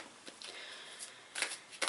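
Soft, brief riffling bursts of playing cards being shuffled, close but quiet, in a few short flurries.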